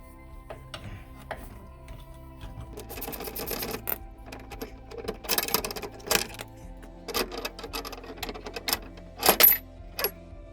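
Tightening rear suspension bolts on a Mercedes-Benz during a coil spring replacement: close metallic clicks, ratcheting and clanks in irregular bursts, growing louder toward the end, with no talk.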